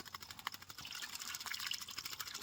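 A pet myna bird splashing as it bathes, with steady watery trickling and dripping and scattered small splashes throughout, fairly faint and close.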